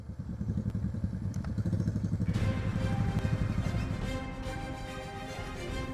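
A motorcycle rides a muddy, damaged village road toward a village near Tobadak, its engine a steady close rumble with clattering thumps as it jolts over rough ground, growing denser partway through.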